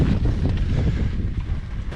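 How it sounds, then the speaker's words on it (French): Strong headwind buffets the microphone during a bicycle ride through savanna in Amapá, Brazil, in a steady low roar, gusting throughout with no voices. "avec le vent en face là, assez fort"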